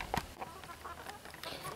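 Chickens clucking in a coop before release to free range, faint scattered clucks and a brief squawk at the start, with no talk.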